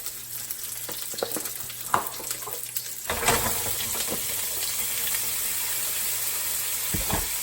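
A pound of ground beef frying in a pan, giving a continuous hiss that swells louder partway through, with scattered clicks and knocks of utensils breaking up the meat.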